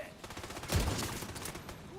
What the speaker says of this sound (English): That's flashbang.